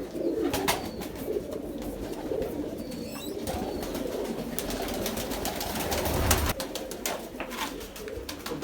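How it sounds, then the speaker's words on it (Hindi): Indian pigeons coo softly amid continuous loft noise, with scattered rustles, wing flutters and knocks over a steady background hum. "अब आपको वो इंडियन कबूतर का शो करवाता हूँ"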